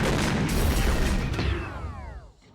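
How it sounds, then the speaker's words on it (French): A shed blown up with dynamite: a loud, broad blast and rumble that fades with settling debris over a couple of seconds, heard from a distance. "La remise a explosé."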